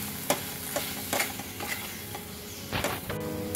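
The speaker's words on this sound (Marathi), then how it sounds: "परत व्यवस्थित परतून घेऊया." Garam masala and spices sauté in a pan for chicken kheema, giving a soft steady sizzle punctuated by clinks and scrapes of a spoon stirring against the metal.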